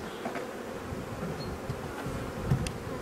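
Honeybees swarm around an opened hive during a spring inspection, making a steady, dense buzzing close to the microphone, with a few faint knocks and handling sounds of frames.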